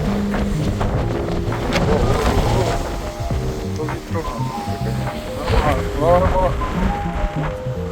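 Gusty wind buffets the microphone with low rumbling roars on a boat on the Baltic Sea passing Denmark, while a voice talks over it and the engine hums underneath.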